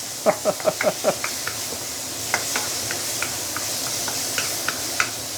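Fish head and bitter melon being stir-fried in a wok, a few sharp scraping stir strokes up front, then scattered lighter clinks over a steady low sizzle.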